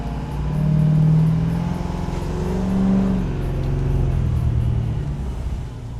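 Ford F-250 MegaRaptor truck engine revving with the windows down, a deep low rumble that swells twice and holds steady throughout, loud and close with no talk.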